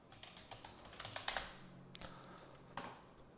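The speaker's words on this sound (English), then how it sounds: "So we type in the command and put in the domain name of the website." Someone types a command on a computer keyboard in a quick, irregular burst of soft keystrokes, with one sharper click near the middle and a final tap, faint and close.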